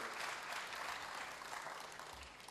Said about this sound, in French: Vous pouvez l'applaudir, oui